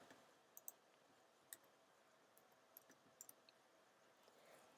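A computer mouse clicking, a few faint, sparse, isolated clicks spread across a nearly silent stretch, with a sharper click at the very end.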